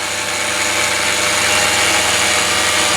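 An electric drill runs through a 2000 W triac speed controller, giving a steady, loud, continuous motor whine and buzz without a break or any speech.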